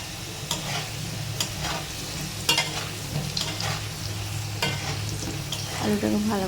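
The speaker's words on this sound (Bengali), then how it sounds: "আমরা একটু ভালো করে উল্টে পাল্টে করে আলুটাকে ভেজে নেব।" Potatoes fry and sizzle steadily in a pan, with repeated scraping and stirring strokes of a spatula breaking through the continuous hiss at a close distance.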